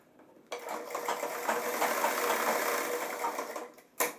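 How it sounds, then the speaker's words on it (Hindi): A sewing machine stitches steadily along a zipper on a pair of trousers, starting abruptly after a quiet moment, running in a close, even whirring burst for about three seconds, then stopping, followed by a brief sharp clack. "ये पूरी चैन के ऊपर सिलाई लगा दीजिए"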